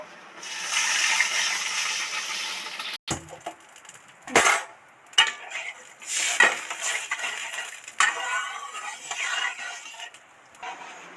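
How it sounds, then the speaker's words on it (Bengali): Water poured into a wok of fried sago khichuri gives about three seconds of loud, steady rushing hiss, then stops. Scattered clinks and scrapes of a utensil against the pan follow. "এবার এর মধ্যে জল দিয়ে দেব"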